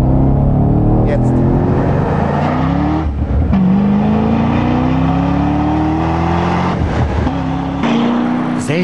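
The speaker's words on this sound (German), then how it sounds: "dass ich unter Volllast Klappen im Auspuff öffnen und dann wird es richtig laut" A Corvette C6 Z06 engine roars loudly at full throttle with exhaust flaps open, the exhaust pitch climbing steadily through several rising sweeps with brief drops between gear changes.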